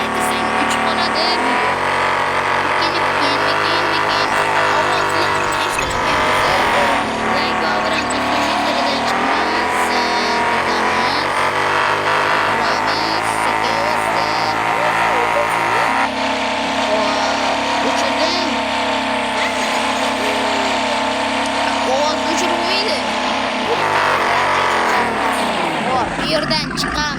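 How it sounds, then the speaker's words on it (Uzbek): Car engines roar and rev continuously in a racing video game, loud and steady throughout with shifting engine pitch, while people talk over the game sounds. "biza mashina o'yin o'ynaymiz"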